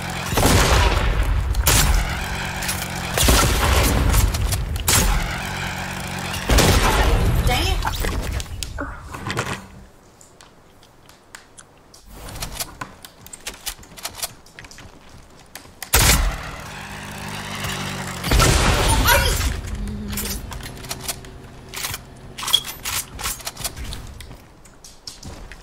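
Bursts of video game gunfire and explosive booms from a one-on-one match come in loud, dense volleys, break off into near silence for a few seconds, then resume in fresh clusters of shots.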